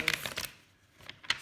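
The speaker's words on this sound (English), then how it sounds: "I'm just gonna shuffle a little here." Quick riffling tarot card shuffles, a couple of bright crackling bursts close by, separated by a short quiet pause.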